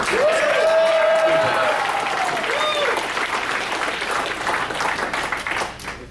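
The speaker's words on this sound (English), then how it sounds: "More applause." A convention panel audience at Dragon Con claps and cheers loudly, with whoops riding over the dense applause before it gradually thins out.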